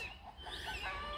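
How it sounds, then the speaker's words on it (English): Chickens cluck and squawk in short bursts, close by, over steady low outdoor background noise. "I hear a red-tailed hawk tormenting my chickens."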